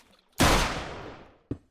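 Gunshot in the video game Minecraft with an environmental mod: one loud close blast with a long decaying tail, then a short sharp thud a second later.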